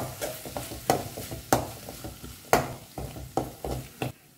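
Spices and garam masala are stirred in a hot pan, with a spoon giving sharp, rhythmic scrapes and knocks roughly every half second over a constant close sizzle.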